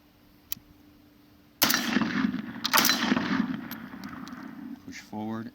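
A KS47 SBR rifle's action is cycled by hand, a sharp metallic clack of the bolt slamming forward as a round almost chambers, followed by rattling handling noise; a voice speaks at the end.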